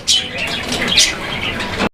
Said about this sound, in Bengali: এখানে চমৎকার আরো এক জোড়া কবুতরের কালেকশন রয়েছে